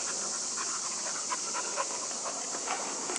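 A dog pants steadily on a wooded path near a creek, quick rhythmic breaths heard fairly close above a constant high hiss of outdoor background noise.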